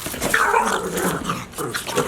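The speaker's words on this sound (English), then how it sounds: "You guys want to see that cute dog just turn into aggressive?" Dog growling aggressively, a continuous rough snarl with rising and falling intensity, close and loud for about two seconds.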